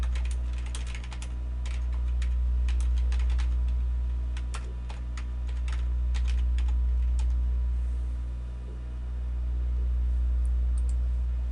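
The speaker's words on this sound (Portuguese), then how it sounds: "inicio a minha digitação" Typing on a computer keyboard while entering text in CorelDRAW: a steady run of close, crisp key clicks in irregular bursts over a low constant hum, with no talking.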